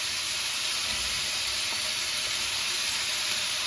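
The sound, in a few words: carrots and zucchini sizzling in a stir-fry pan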